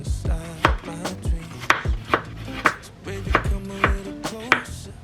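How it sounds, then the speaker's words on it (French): A knife slices a cucumber into very thin slices on a board, a quick regular series of about a dozen close, crisp chopping knocks, alone with no talking. "je vais couper quelques tranches de concombre. Je coupe des tranches super fines"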